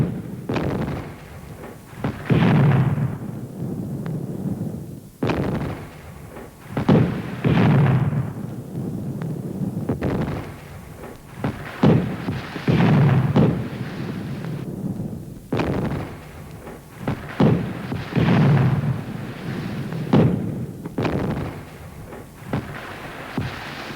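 Ship cannons fire in a naval battle, a series of deep booming blasts spaced a few seconds apart, loud and close, with rumbling between shots and no talk.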